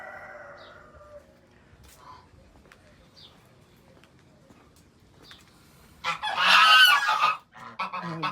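Geese in an enclosure at a bird garden in Riyadh let out a loud, close burst of honking after a quieter stretch with scattered faint calls, and a person speaks briefly nearby.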